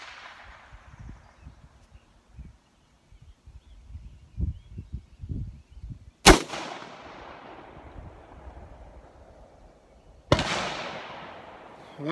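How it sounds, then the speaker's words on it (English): Two sharp gunshots fired at a shooting range target, a few seconds apart, each leaving a decaying echo, over quiet low rumble and faint movement. "I'm going to try and shoot a little higher just to see if I'm hitting high or low"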